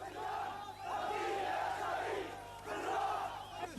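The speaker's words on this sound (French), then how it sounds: "une foule en colère s'est rassemblée devant la salle d'urgence" An angry crowd gathered outside an emergency room in Hebron shouts in loud, surging waves of massed voices, rising and falling over a few seconds.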